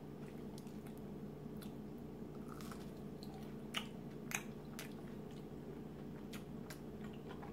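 Biting and chewing a Wendy's Double Baconator with sriracha close to the mic: soft, moist squishes and a couple of sharper crunchy clicks over steady low background hum.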